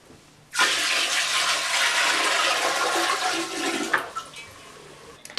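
Soapy water gushes out as a Giantex portable mini compact twin tub washing machine drains, a loud steady rush starting suddenly and lasting several seconds before breaking into uneven splashes and trickles, with no talking.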